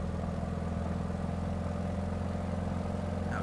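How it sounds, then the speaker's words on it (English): Simulated radial engine of a Beechcraft D17S Staggerwing in Microsoft Flight Simulator 2020, a steady, throaty drone with a low rhythmic pulse, holding even at cruise power throughout with no talking. "The engine sounds delightful, I've got to say."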